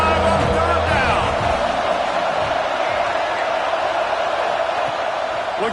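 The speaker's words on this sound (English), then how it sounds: "The Buckeye crowd alive on third down." A large Ohio State Buckeye stadium crowd roars steadily on third down against Rutgers, a broad sustained wash of cheering under commentators' voices.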